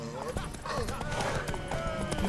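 Horse hooves clip-clop at a steady run during a race in The Witcher 3, mixed with game music, ambient noise and a horse's whinny, while voices speak over them.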